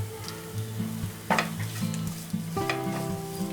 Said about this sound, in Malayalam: കറിവേപ്പിലയും കൂടി ചേർത്തിട്ട് നന്നായിട്ടൊന്ന് ഇങ്ങനെ ഇളക്കുക.